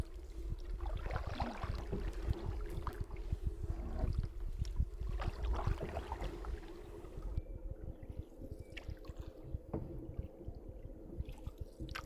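A canoe paddle dips and swishes through calm lake water in a steady rhythm, with soft drips and gurgles close by and a faint low hum underneath.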